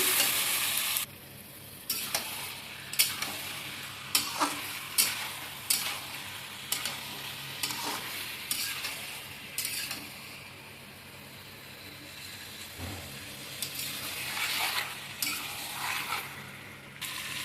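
Jackfruit stir-fried with fat in a pan, a steady sizzle broken by repeated scraping strokes of a spatula every second or so, close and fairly loud, with no talking.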